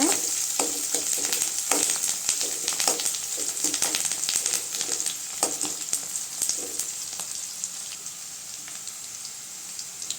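Onions and green chillies sizzle steadily in a pan for wheat rava kichadi, with a continuous crackling fry and occasional stirring clicks.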